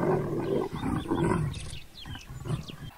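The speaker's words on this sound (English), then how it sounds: "Number 87, mating leopards." Mating leopards call in a continuous run of harsh, rasping growls and grunts, fairly near and steady. Faint higher background chatter sits behind them and no one speaks.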